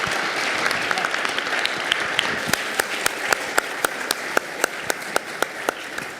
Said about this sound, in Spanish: Un aplauso para los 3